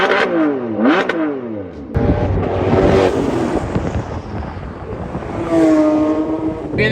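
A Ford Mustang GT500 accelerates hard on a mountain road, the engine note sweeping up and down through gear changes, then a loud roaring pass with wind rush before another rising rev, close and powerful.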